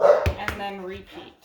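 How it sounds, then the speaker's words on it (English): A dog barks twice in short sharp bursts early on, close by in a home kitchen during vegan meal prep, while a person talks over and after the barks. "That's my dog going off, as always."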